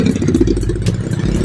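A Raider 150 motorcycle engine with a big carburetor idles close by with a steady, slightly uneven chug and faint rattling, running continuously without any voices.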